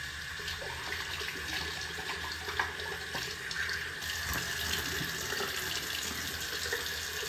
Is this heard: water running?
yes